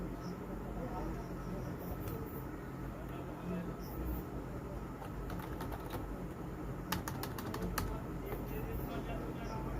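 Text is typed on a computer keyboard in Photoshop: soft, fairly steady key clicks, close to the mic, with a quick burst of sharper taps near the end, all over a constant background hum.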